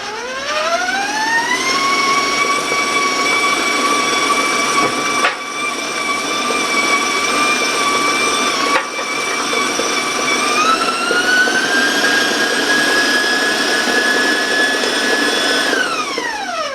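A stand mixer whirs loudly at high speed mixing crumb cake batter, its motor pitch rising as it spins up, then holding a steady whine with a brief dip and step up midway.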